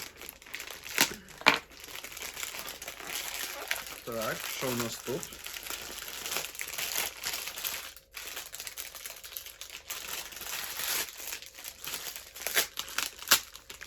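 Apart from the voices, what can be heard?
crinkling plastic parcel packaging being opened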